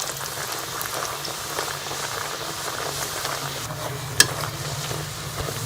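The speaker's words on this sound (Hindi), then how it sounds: "इसी तरह बाकी जो भी पूड़ियाँ हैं वो मैं फ्राई कर लूँगी।" Potato pooris deep-fry in a pan of oil with a constant, bubbling sizzle heard up close, and one sharp click of a utensil breaks through partway.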